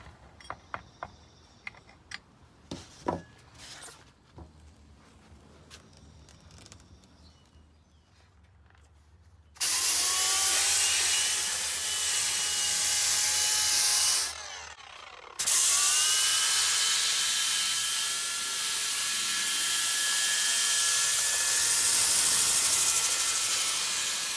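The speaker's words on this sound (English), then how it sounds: "So now I'm going to sand the concave, sand the flats of the board, trying to get a better shape that I want" A power sander works over the concave and flats of a surfboard being shaped, starting abruptly as a loud, steady broadband whir, cutting out briefly, then resuming and running on continuously after a stretch of quieter handling noises.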